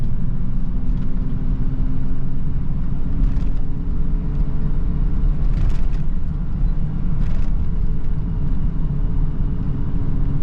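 A Nissan D21 Hardbody truck with a 3-liter V6 drives along, its engine giving a steady, loud low rumble throughout with no talking.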